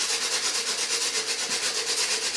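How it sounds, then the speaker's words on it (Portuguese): A dried gourd is sanded smooth for craftwork, giving a steady, close, rhythmic rasping scrape in even repeated strokes with no voices. "você pode estar lixando"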